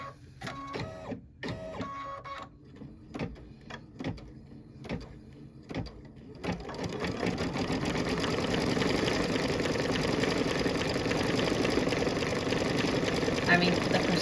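An embroidery machine stitches a vinyl heart zipper pouch, starting with short bursts of mechanical stitching and pauses for a jump stitch, then running steadily and loudly in a continuous whir.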